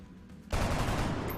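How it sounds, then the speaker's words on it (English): Gunfire in the XCOM Long War strategy game, a sudden loud burst of shots starting midway and sustained to the end, with no talking. "She misses, but Vasur fires true"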